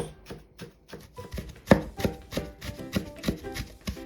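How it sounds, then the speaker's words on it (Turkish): A knife chops finely through fresh mint leaves on a board in a series of quick, close, evenly spaced cuts, crisp and fairly loud, with no talking. "Ve ardından nanelerimizi ince ince kıyıyoruz."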